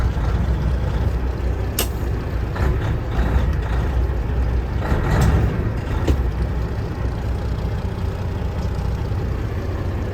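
Air suspension airbags inflating on a truck, a continuous loud hiss of air over a rumbling engine, with a few brief sharper bursts of release partway through.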